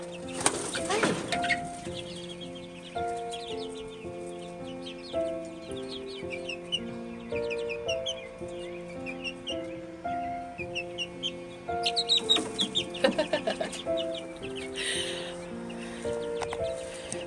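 A laying flock of hens clucks nearby in repeated soft calls, with a louder flurry of cackling bursts midway, over a steady background tone.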